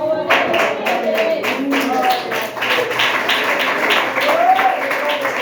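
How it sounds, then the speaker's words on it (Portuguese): A church congregation claps in rhythm, a steady series of hand claps heard under voices and singing. "Todos podem se assentar e exaltar o Senhor Jesus com as palmas."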